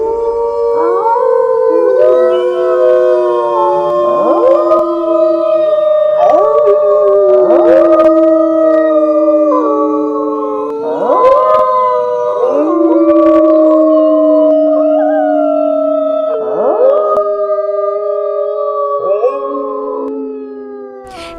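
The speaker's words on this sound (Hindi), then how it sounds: "जंगल से दूर सियारों का हुआ हुआ करके चिल्लाने की आवाजें आनी शुरू हो गई।" A pack of jackals howls in a forest on a moonlit night, several long wavering voices overlapping and rising and falling together in a continuous chorus for about twenty seconds.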